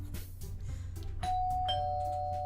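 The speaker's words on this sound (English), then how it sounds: "Like a deer, my head jerks to the sudden sound of my doorbell." A doorbell in the video game Doki Doki Fallen Angel, a single clear chime that rings out and sustains over a low background hum.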